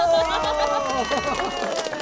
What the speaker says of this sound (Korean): 그럼 맞다라고 생각하신 분들 중에 우리 선생님 박수 한번 주세요